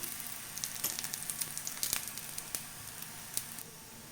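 A flipped batter snack fries in oil in a pan, giving a faint, even sizzle with light crackling pops, quiet and close, with no one speaking.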